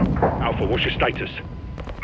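Heavy gunfire and explosive blasts in Call of Duty Modern Warfare 2, booming bursts throughout a short chaotic moment, mixed under urgent shouted radio-style voices.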